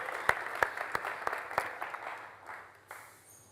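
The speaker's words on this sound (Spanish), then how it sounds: "Un aplauso para Javier" An audience at a technology meeting in Málaga applauding as a speaker is introduced, a few sharp, distinct claps over a soft patter of clapping that fades out quickly and leaves quiet room tone.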